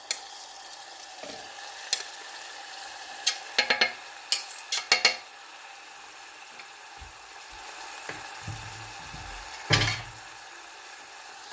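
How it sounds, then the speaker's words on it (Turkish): Soft steady sizzle of chopped tomatoes frying in a pan, broken by scattered clicks and scrapes of a utensil stirring, with a few sharper knocks. "Domatesler güzelce ölene kadar kavurma işlemine devam edeceğiz."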